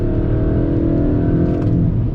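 A 2021 Kia K5 GT sport sedan engine pulling hard on throttle, a loud, close, continuous drone with a rising tone.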